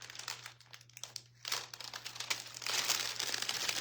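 Metallic foil crinkles and rustles continuously while leather boots are decorated, close and moderately loud, with bursts of handling and a steady low hum underneath.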